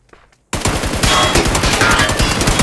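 Automatic gunfire in the mobile battle royale PUBG New State, a sudden loud burst of rapid shots after a brief quiet moment, continuing densely and close to the end.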